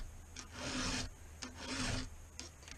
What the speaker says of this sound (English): See how that file's grabbing?